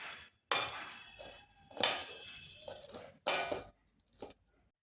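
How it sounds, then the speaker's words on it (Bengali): Flour dough being mixed in a bowl, heard as a few separate bursts of clinking and scraping with short pauses between them, close and fairly quiet, with no talking. "এটা একটা ডো তৈরি করব। এরপর এগুলো ভালোভাবে মিশিয়ে নিচ্ছি।"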